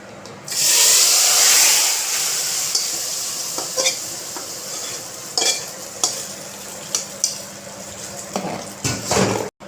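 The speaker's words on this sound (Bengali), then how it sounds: "দেখো এবার আমি ফোড়নটা দিয়ে দিলাম।" Whole spices for a Bengali phoron tempering hit hot oil in a kitchen pan with a loud, hissing sizzle up close, then settle into a softer steady fry broken by the clicks and scrapes of stirring.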